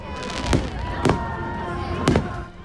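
OC fireworks booming: three sharp bursts ring out over a steady wash of crowd and ambient noise, loud and fairly close.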